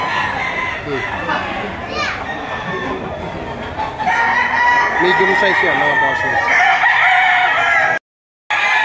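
A rooster crows close by among clucking fowl and lively background chatter at a poultry market in Lipa, Batangas, Philippines, with someone talking throughout.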